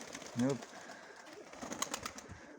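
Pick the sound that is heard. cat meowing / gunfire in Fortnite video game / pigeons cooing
pigeons cooing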